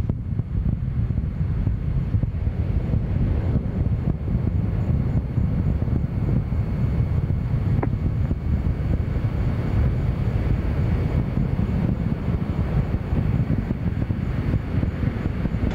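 Space Shuttle Atlantis climbing on its twin solid rocket boosters, a steady, dense low roar with heavy wind-like rumble holding at constant loudness throughout, distant and continuous with no voices.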